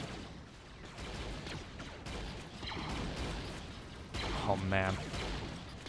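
Clone troopers and battle droids trade blaster fire in a Star Wars: Galaxy at War mod battle, a dense, continuous rattle of distant shots and mechanical noise while a voice speaks briefly.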